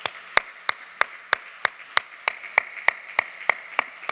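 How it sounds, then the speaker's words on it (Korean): Sharp, evenly spaced claps ring out about three per second, one crisp slap after another with nothing else around them, in a church honouring its officers. "우리 큰 박수로 우리 모든 임원과 구역장님들 축복해 주시면 감사하겠습니다"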